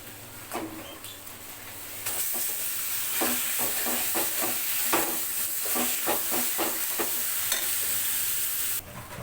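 Taro leaves (kochu shak) hitting a hot pan and frying, a loud bright sizzle that surges in and holds steady, broken by repeated scraping stirs and clacks of a spatula, close up with no talking.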